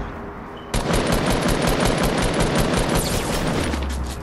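Rapid gunfire in the Fortnite battle royale, a sudden dense burst of rattling shots that starts under a second in and continues steadily, loud and close, with no talk.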